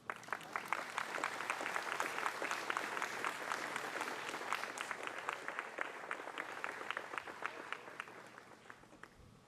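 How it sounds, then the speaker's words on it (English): An audience at a ribbon cutting ceremony applauds with steady, dense clapping that holds for several seconds and slowly tapers off, heard at a moderate distance without speech. "Could we give him another round of applause for sharing those stories?"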